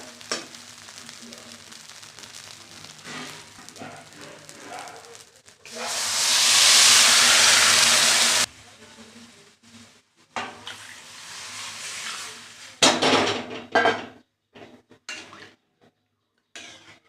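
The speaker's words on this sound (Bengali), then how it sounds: "এবার আমি জল দিয়ে দেবো, ভাজাটা সুন্দর করে করতে হবে।" Water added to a pan of frying food while cooking khichuri: a loud, sudden hissing sizzle bursts up for a few seconds among quieter frying and stirring sounds, with later clatters and shorter sizzles.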